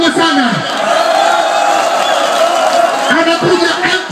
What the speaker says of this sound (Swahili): Makofi kwa Kanumba makubwa sana